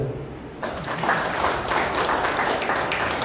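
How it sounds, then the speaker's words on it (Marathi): Audience applause breaks out at a Satara book lovers' group annual gathering as a guest is called on stage to be felicitated: a brief quiet, then a sudden burst of steady, fairly loud clapping from the crowd that carries on without fading. "थोडा टाळ्या होते."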